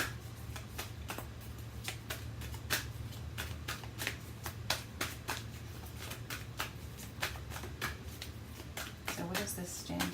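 Angel cards being shuffled, a rapid run of crisp papery flicks and riffles repeating steadily for about ten seconds, close and fairly quiet, with a low steady hum underneath.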